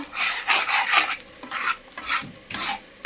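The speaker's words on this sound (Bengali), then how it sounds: "ভালো করে এই মশলাগুলো মিক্স আপ করে দিচ্ছি" Spices with ginger, garlic, coriander and cumin being worked by hand into fish, a wet rubbing and squelching in short repeated bursts, close and fairly loud with brief pauses between strokes.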